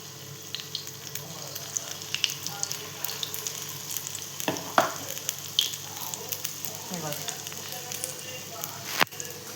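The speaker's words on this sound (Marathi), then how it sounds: "आता आपण त्याला फ्राय करून घेऊया. इथे तेल तापाय ठेवलेलं" Chicken lollipops deep frying in hot oil, with a steady busy sizzle and crackle, scattered pops and occasional clinks of a utensil stirring throughout.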